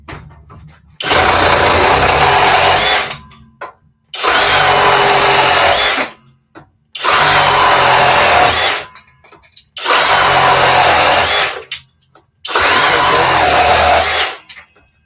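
A FLEX or DeWalt reciprocating saw cuts through wood in five loud, steady bursts of roughly two seconds each, separated by short pauses, with some faint background sounds between cuts.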